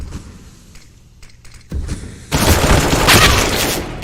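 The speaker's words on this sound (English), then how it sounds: "Flashbang out. Deploying flashbang. Throwing flashbang. Laying down smoke." Flashbang and smoke grenades thrown in the shooter game CS:GO, a quiet stretch giving way to a sudden loud burst and then a sustained hissing roar of smoke and blast.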